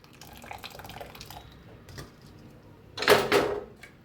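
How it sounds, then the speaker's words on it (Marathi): Hot water is poured onto cooked dal, a few light drips and trickles building to a short, louder splashing pour near the end, close by. "आता ह्याच्यावर ओतायचं गरम पाणी।"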